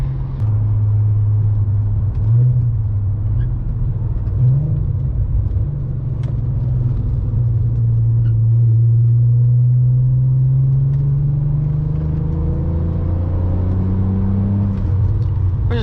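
A heavy R32 all-wheel-drive car cruises on the Autobahn, its engine a steady, loud low drone with a gently rising pitch as it holds speed, with no talking.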